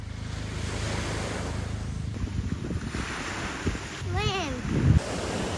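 Surf rolls onto a beach at high tide below a cliff, a continuous wash of waves with wind rumbling on the microphone, while a person speaks briefly and a high squeal rises near the end.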